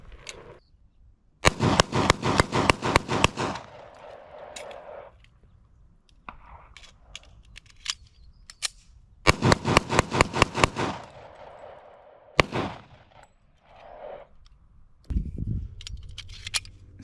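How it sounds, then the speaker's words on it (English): Pistol gunfire at an outdoor shooting range, with two loud rapid strings of sharp close shots and a few single cracks between quieter pauses. "Line's hot, fire and ready."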